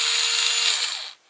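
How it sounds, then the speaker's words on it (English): A power screwdriver whirs steadily for about a second as it backs a screw out of a Tamiya G6-01 RC car, then cuts off abruptly, followed by a faint click. "I'm going to take my screwdriver here, or gun here. Unscrew it."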